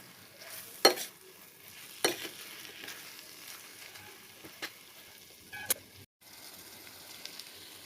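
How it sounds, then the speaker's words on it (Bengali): Prawns are stir-fried with spice masala in a pan, giving a faint, steady sizzle with occasional sharp clicks and scrapes of stirring, and no voices over it. "মশলাটা দিয়ে চিংড়ি মাছটা ভালো করে কষতে হবে, তাহলে কাঁচা ভাবটা কোনো গন্ধই বেরোবে না।"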